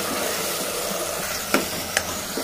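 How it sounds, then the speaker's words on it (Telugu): Cauliflower is stirred into spices in a hot pan, giving a steady sizzle with a few sharp scrapes of the spoon near the end, close up and without talk. "ఇప్పుడు కాలీఫ్లవర్ వేసాము. ఇప్పుడు కలుపుకోవాలి."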